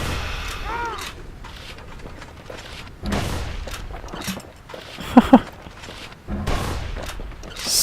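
Heavy gunshots from the action game Bastion, a few loud booming blasts spaced across the stretch with a pair of sharp cracks near the middle, mixed with game sounds and narration.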